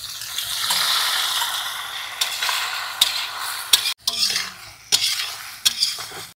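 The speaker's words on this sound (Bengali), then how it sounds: "পেঁয়াজটা লাল লাল করে ভাজা হয়ে গেছে।" Sliced onions, tomato and whole spices (cumin, bay leaf, dried chilli and garam masala) sizzle in hot oil in a pan at a riverside picnic, with a spoon stirring and scraping loudly against the metal, close and up front.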